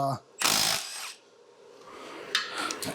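Power tool spinning off 14 mm connecting rod cap bolts on a Mazda Miata engine during teardown: one loud burst of about three-quarters of a second, followed by quieter clicks and mechanical rattles.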